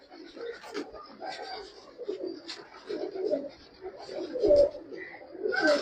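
Kabuli pigeons coo softly in a low, rolling murmur, several birds overlapping at close range, with some background voices and rustling.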